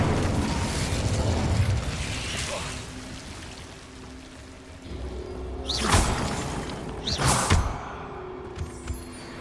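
Incendio fire spell cast in Hogwarts Legacy, two sharp whooshing bursts of flame near the end over a busy ambient game backdrop, with a voice speaking.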